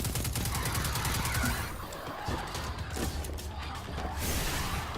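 Gunfire in Destiny 2 on Io comes as a dense, loud barrage of rapid shots with mechanical clatter, easing briefly mid-way and then picking up again.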